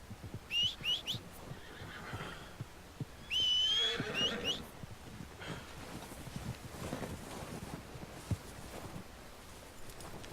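A horse in Red Dead Redemption 2 whinnies in two bursts, a brief high call followed by a louder, longer neigh, with soft hoof shuffles, wind and light rustling around it and no talk.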